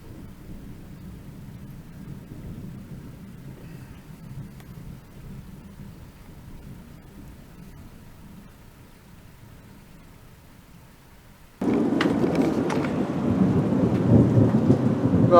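Thunderstorm in Leicestershire, England: a long low rumble of thunder rolls on for several seconds, then heavy rain suddenly starts pouring loudly and close, hissing on through the end.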